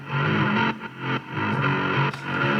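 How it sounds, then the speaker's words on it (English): A sidechained bass played on its own, keyed to a kick drum. The thick, gritty sustained tone repeatedly ducks and swells as its volume briefly cuts out several times. "if you play this bass by itself, you will notice how the volume cuts out very often."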